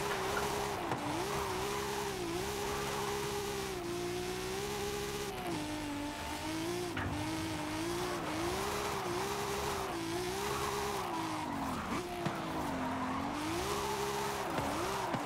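A Nissan 200SX S14 drifts in Forza Horizon 5, its engine note rising and falling in steady waves as the revs climb and drop, with continuous tire squeal loud and close throughout, and no voices.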